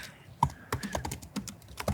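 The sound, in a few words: loud typing on a laptop keyboard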